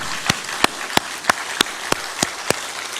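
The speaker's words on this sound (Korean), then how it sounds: "우리 박수 한번 하도록 하겠습니다." Rhythmic clapping at a Korean Presbyterian church service installing an emeritus pastor: sharp, evenly spaced claps about three per second over a soft background hum, with no speech.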